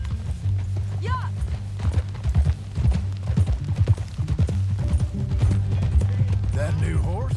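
Horse hooves clip-clop at a steady gallop while riding in Red Dead Redemption 2, the rhythmic thuds running under a low music drone with occasional speech and brief sounds.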